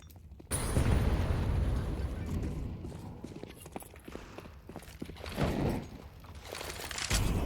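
A flashbang goes off in a Counter-Strike match, a sudden sharp burst followed by a fading rumble and scattered in-game clicks and footsteps.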